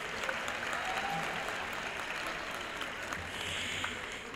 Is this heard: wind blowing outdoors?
no